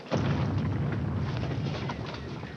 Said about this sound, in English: The cannon of Chateau d'If.